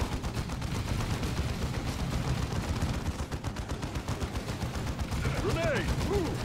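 Sustained rattling gunfire as a squad opens fire in the strategy game Dawn of War II, dense rapid bursts running continuously at full loudness, with voices under the shooting and a brief warbling effect near the end.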